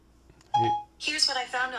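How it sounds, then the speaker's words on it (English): Phone keypad buttons pressed, giving two short dialing tones a moment apart, each clear and close. "Okay, that was my phone,"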